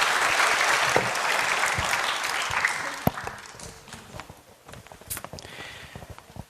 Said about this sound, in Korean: 우리 민정학생을 위해서 박수 한번 주시겠습니까?